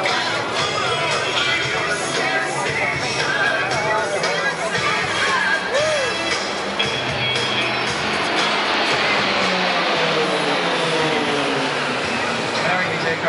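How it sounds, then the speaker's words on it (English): Aerobatic team planes with PT6 turboprop engines fly overhead in formation, a loud, deep droning roar that rises and shifts pitch as they pass, over crowd chatter and an announcer speaking. "as they go by, you'll notice as well that deep baritone voice of the planes"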